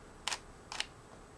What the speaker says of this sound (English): So, the idea here is to open the shutter.